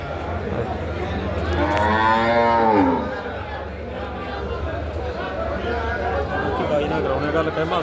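Cattle at the Dabwali livestock market give a long, loud moo that rises and falls over a couple of seconds, set against steady crowd chatter and people talking throughout the busy open-air market.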